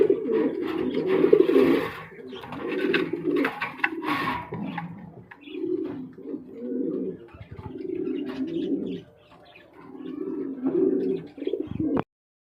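Pigeons coo steadily in repeated low rolling phrases, close and fairly loud, with a pair of large pigeons in a loft among birds offered for sale; brief pauses separate the bursts.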